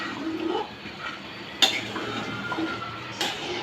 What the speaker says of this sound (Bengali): এবার আবারও নেড়ে দিচ্ছি।